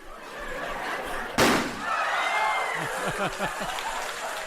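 A metal cannon loaded with liquid nitrogen, warm water and ping pong balls fires once with a sharp, loud bang, followed by applause, laughter and chatter from an audience at a celebration.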